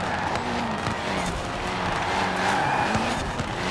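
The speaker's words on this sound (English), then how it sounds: "I really like the sound of this engine with the popping." Nissan Pulsar Group A car in Forza Horizon 4, engine droning steadily with crackling exhaust pops and some tyre noise, loud and continuous throughout.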